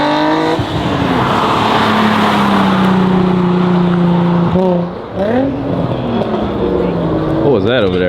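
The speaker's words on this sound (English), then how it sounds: "That was a big boat." A big vehicle passes by at a large car meet, its deep engine drone sweeping loud and close for several seconds, with people talking and calling out over it.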